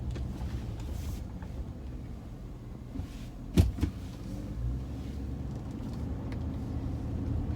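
A car drives down the road, heard from inside the cabin as a quiet, steady low rumble of engine and road noise, with one brief knock in the middle.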